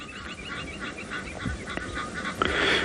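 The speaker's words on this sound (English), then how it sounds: "these Egyptian geese are being so noisy. It's just uttering out an alarm call specifically for this African fish eagle" Egyptian geese give noisy alarm calls on an afternoon safari in South Africa, warning of an African fish eagle; a continuous chorus of harsh honking and cackling, fairly close, swelling louder toward the end.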